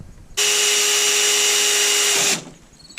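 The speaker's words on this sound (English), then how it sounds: "I'm drilling the polycarbonate for the safety cable." A power drill whirs loudly and steadily through a polycarbonate skylight sheet on a converted school bus for about two seconds, then cuts off abruptly.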